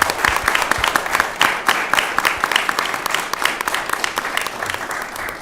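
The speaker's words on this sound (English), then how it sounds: "So if we could give those students a nice round of applause." Warm applause for choir students at a school committee meeting, a room of people clapping steadily and fairly close, with some individual claps standing out in a sustained, even rhythm.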